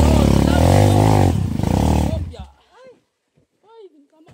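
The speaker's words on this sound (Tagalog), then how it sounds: "Talon kasama motor ha." A motorcycle roars loudly up close for about two seconds, engine revving hard as it jumps, then cuts off abruptly, leaving quiet voices and faint chatter afterward.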